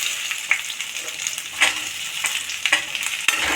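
Okra drops into a hot pan with curry leaves and fries, giving a crackling sizzle with several sharp spits and pops over a short, fairly loud stretch.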